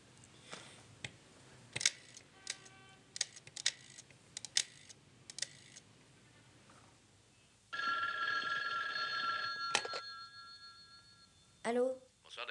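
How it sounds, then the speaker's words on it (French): Desk telephone in a French TV drama: scattered clicks and taps of buttons being pressed, then a loud electronic ringing tone for a couple of seconds, followed by a brief voice. "Je téléphone à mon fils, Benson."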